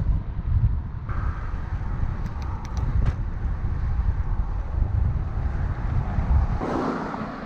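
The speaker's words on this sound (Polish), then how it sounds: "No i zajebisty wiatr." Strong wind buffets the microphone while cycling a smooth asphalt road toward Bobbin on Rügen island near the cliffs, a steady loud low roar with brief gust swells and no talk.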